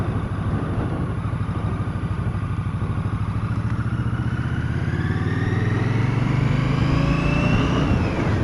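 A 2017 Victory Octane motorcycle engine winds up steadily under load, a rising mechanical whine climbing in pitch over a loud continuous engine drone, close and without talk.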